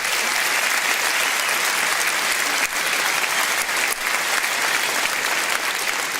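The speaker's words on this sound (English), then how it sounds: "Round of applause for your local candidates." Sustained, dense applause from a large audience at a Reform UK political rally, clapping for local election candidates; loud and steady throughout with no talk over it.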